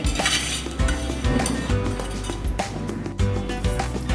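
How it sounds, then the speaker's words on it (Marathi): Sugar being stirred constantly in a pot to dissolve it while making kharvas from cow's colostrum milk, loud close scraping and clinking of a metal spoon against the pan in quick, repeated strokes. "आता हे व्यवस्थित आपण साखर विरघळून घेऊया या पद्धतीने सतत हलवत राहूया"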